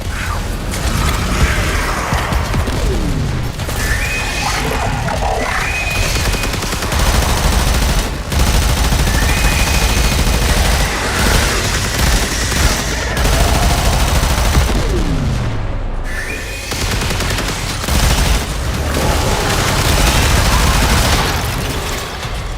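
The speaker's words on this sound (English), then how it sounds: "Ah, the Symphony of Gunfire." Dense, continuous gunfire in the video game Warframe, with mechanical clatter and rapid bursts layered with creaking and ratcheting effects, loud and sustained throughout.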